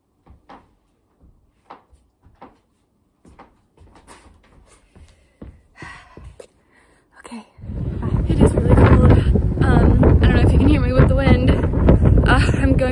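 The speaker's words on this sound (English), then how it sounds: "Oh, it's windy." Outdoors in a South Carolina city, a few scattered clicks and knocks give way to strong gusting wind buffeting the microphone, a loud continuous rumble filling the second half.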